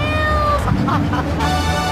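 A cat up a tree in the video game Grand Theft Auto 3 meows loudly and repeatedly in short, whining cries over a steady background of game music and noise.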